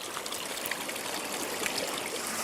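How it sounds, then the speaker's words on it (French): The Calaqueri mountain river in the hamlet of Chucarasi rushes past close by, a dense, steady broadband roar of flowing water with small splashes and no voices. "Voici la rivière de montagne de Calaqueri, dans le hameau de Chucarasi."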